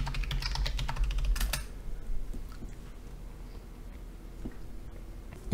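Keys clatter on a computer keyboard as a password is entered at a GNOME login on Ubuntu, a quick burst of clicks followed by quieter scattered taps, close and moderately loud against a faint background hiss.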